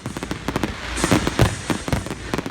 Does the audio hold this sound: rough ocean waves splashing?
no